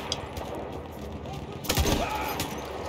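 Rapid rifle and machine-gun fire crackles throughout a World War I battle at Seddülbahir in Battlefield 1, with a heavier burst of shots near the middle, dense and fairly loud.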